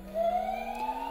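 A toy ambulance siren wails in a continuous rising electronic tone, loud and close, with no speech over it.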